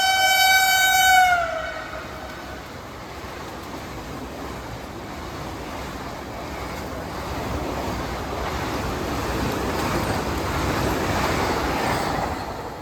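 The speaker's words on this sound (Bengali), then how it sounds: "আমাদের ট্রেন ঢুকে যাচ্ছে এখনই" A train horn blares briefly at the start, then a long rumbling roar of a Vande Bharat express train rolling into a station, swelling slightly louder toward the end.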